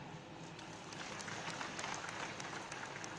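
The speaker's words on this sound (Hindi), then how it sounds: "अब ताली तो आपने बजाई" Audience applause at the inauguration of a new airport terminal building at Tezu Airport, a steady wash of many hands clapping at moderate loudness for about three seconds, with no talk over it.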